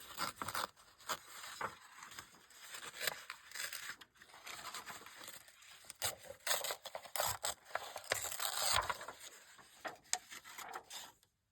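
Paper being torn by hand around a stamped image for a junk journal, a quiet run of short ripping and rustling bursts with brief pauses, close to the microphone and without speech.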